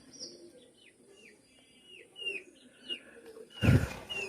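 Pigeons in a loft give soft chirps and coos in a scattered series, fairly faint and close, ending with a brief louder flutter.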